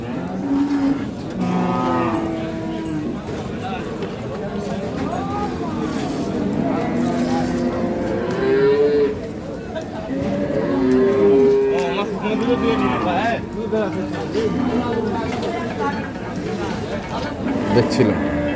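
Dairy cows of an improved breed moo repeatedly at the Ambari village cattle market in Bangladesh, their long lowing calls rising over constant crowd chatter and nearby talking voices.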